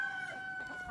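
Rhode Island Red chickens and roosters give a brief, faint burst of clucking lasting about a second, with no voices.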